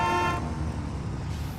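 Vehicle horn in the Satisfactory video game gives a short, loud, bright toot that cuts off abruptly, followed by a low rumbling engine-like drone.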